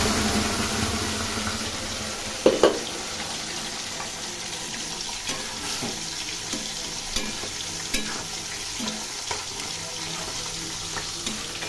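Boiled potatoes and carrots fry in a wok with a continuous close sizzle and hiss, broken by occasional sharp knocks and scrapes, with no talking.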